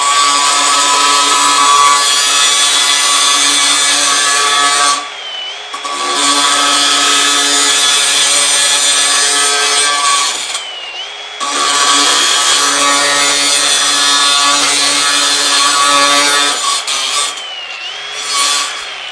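A diamond metal cutting wheel slices through 1-inch steel tubing with an 1/8-inch wall, a loud continuous high-pitched grinding whine across three long cuts, each broken by a brief pause.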